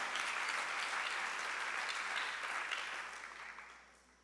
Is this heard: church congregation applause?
yes